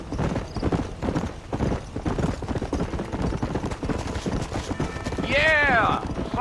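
Horse galloping in the video game Red Dead Redemption, a fast steady clip-clop of hooves running under game dialogue, ending with a loud neigh near the close.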